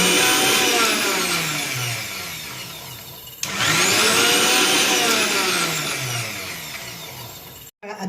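A blender whirring steadily as it mixes homemade mayonnaise while sunflower oil is poured in gradually, its motor pitch wavering and dipping briefly before running on loud and close.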